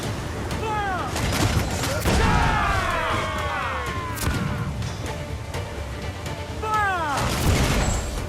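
Ship cannons in Assassin's Creed IV boom in several heavy blasts amid a noisy naval battle, with crew voices shouting throughout.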